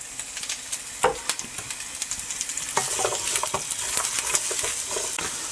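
Sausage and vegetables stir-frying in oil over medium heat, a steady close sizzle broken by repeated scraping and clattering stirs in the pan, with no voices.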